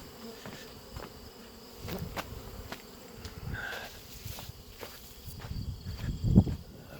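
Honey bees buzz around backyard hives beside a garage, a continuous hum close to the microphone with individual bees passing by, plus footsteps and rustling.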